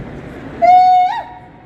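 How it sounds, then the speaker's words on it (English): A single audience buffalo yell at a live interactive event: one sustained, steady high whooping tone lasting about half a second that lifts and wavers at the end, heard over faint room noise. "the sound we make is called a buffalo yell"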